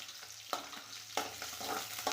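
Garlic cloves sautéed with small onions for peanut chutney, a quiet, close sizzle broken by three or four sharp spatula scrapes and taps against the pan.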